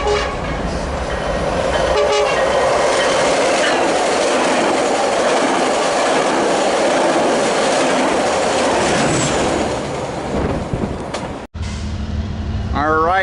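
Train 1663 bound for LA rolls past at Commerce, a loud, close rumble of wagons and clattering wheels with horn blasts early on. The noise eases near the end and breaks off abruptly before a short tail of different sound.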